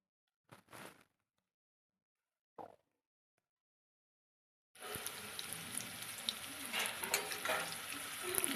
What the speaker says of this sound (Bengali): প্রথমে আমি পনিরগুলো হালকা করে একটু ভেজে নেব।